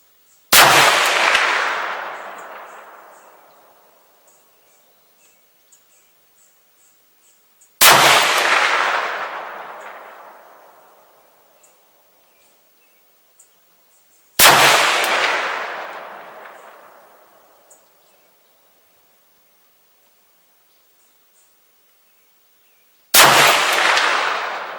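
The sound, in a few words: 5-round group of 6.5 Grendel rifle shots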